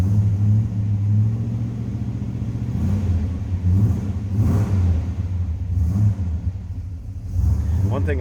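A 1964 Oldsmobile Cutlass convertible idles steadily as it warms up, a close, continuous low engine rumble with slight swells in revs, while a voice talks over it.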